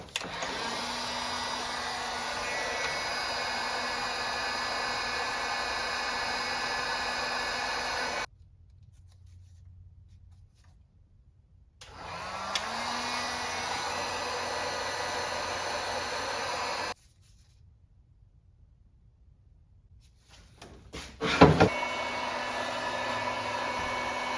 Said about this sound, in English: Heating the inner race on the output shaft bearing.